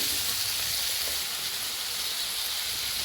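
Potatoes fry in hot oil tempered with cumin seeds in a pan, giving a steady, even sizzling hiss that stays constant throughout.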